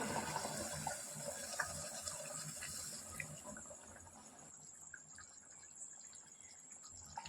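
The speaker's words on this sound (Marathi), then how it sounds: "त्यानंतर ग्रेव्हीमध्ये आपण गरम पाणी घालून घेऊ" Hot water poured into a simmering paneer masala gravy with cashews, a steady watery rush for about four seconds that then fades to a quieter trickle and bubbling, heard alone.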